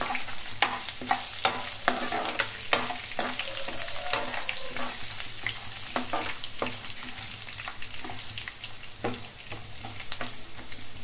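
Curry leaves, garlic and cumin sizzle in a frying pan for okra fry, with a steady fry hiss broken by repeated sharp scrapes and clacks of a spatula stirring close by.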